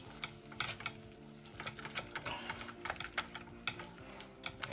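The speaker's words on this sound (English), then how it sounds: "Stir this in." Shredded cheese is stirred into a thickening seafood pie sauce in a pan, with soft scraping spoon strokes and faint sizzling at low volume.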